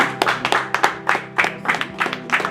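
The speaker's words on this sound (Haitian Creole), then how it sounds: "On applaudit." A congregation claps in sharp, separate bursts, roughly a dozen close-range hand claps in a loose, uneven rhythm.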